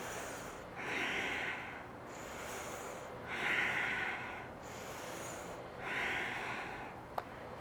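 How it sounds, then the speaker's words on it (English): Slow, deep breathing during yoga spinal twists, with three long, airy breaths rising and falling at an even pace over steady background noise, close and fairly soft. "Inhale one way, exhale the other."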